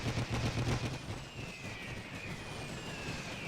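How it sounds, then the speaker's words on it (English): Machine gun fire in a WWI strategy video game, heard as a fast rattling burst of shots at the start that fades into a steady wash of distant battle noise. "So the machine guns are trying to shoot down these guys, but because of the angle, they're not really reaching them."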